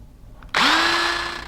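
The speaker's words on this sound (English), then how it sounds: "we're ready to drill the second hole" A power drill is triggered and spins up sharply, its motor whine rising and then holding steady as it bores a mounting hole for installing a rifle rack, loud and close after a quiet start, with no voices.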